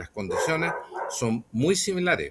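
A dog barks in the background of an indoor conversation, short yips breaking through a man's steady speech.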